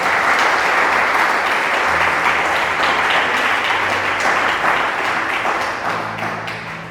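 A church congregation applauds together, a dense, loud wash of clapping that holds steady throughout and eases off slightly toward the end.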